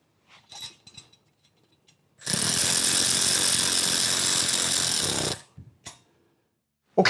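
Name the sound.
fastening barrel bolts over spark plug wire shield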